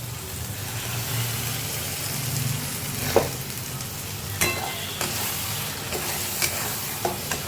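Spices and tomato paste fry in a pan while being stirred, a steady close sizzle broken by several scraping knocks of the spoon against the pan, with no talk.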